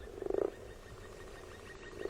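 Frog croaking during a storybook reading, two short throaty croaks, one near the start and another at the end, fairly faint against a quiet background.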